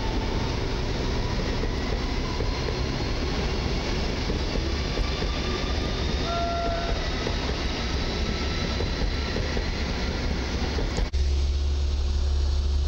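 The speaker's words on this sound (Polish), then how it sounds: "ED250 z Warszawy Wschodniej do Wrocławia Głównego jako pociąg Express Intercity" An ED250 Express Intercity Premium train of PKP Intercity passes a Warsaw station as a steady, loud rumble that holds for about eleven seconds, then cuts off sharply to a quieter background hum.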